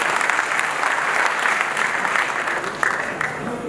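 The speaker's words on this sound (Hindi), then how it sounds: "आप एक ताली बजा करके स्वागत करें" An audience at a live political gathering gives sustained applause to welcome a speaker, a dense, even wash of many hands clapping at moderate distance, with faint voices beneath.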